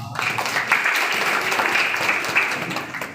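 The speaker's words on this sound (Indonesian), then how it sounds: "Tepuk tangan bagi Tuhan." Church congregation claps during a sermon, a full, continuous round of applause that starts abruptly and carries on at a steady level without speech.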